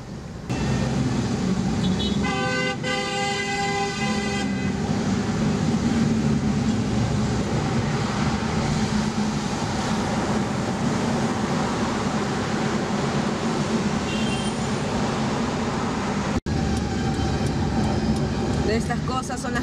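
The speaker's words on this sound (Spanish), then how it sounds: "Que odio en el tráfico de Lima." A car horn blares in a long sustained tone amid the steady roar of congested street traffic in Lima, with engines and road noise continuing loudly throughout.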